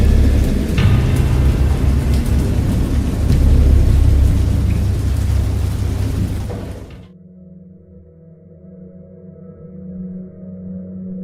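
Heavy rain and rumbling thunder roar loudly for several seconds in the horror video game Dagon, then cut off abruptly to a quieter low hum.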